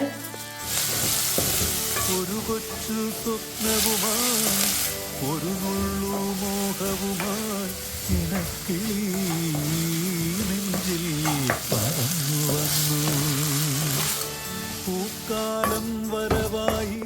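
Chopped ingredients sizzling loudly in oil with popping mustard seeds, fenugreek and curry leaves for a Kerala mackerel pepper fry, steady frying with stirring scrapes; a faint voice briefly hums or talks underneath.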